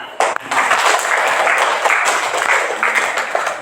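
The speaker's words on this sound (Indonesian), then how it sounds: "Ya, tepuk tangan." A class or audience applauds during a mathematics teaching session, steady clapping at close range lasting the whole moment, with some faint voices mixed in.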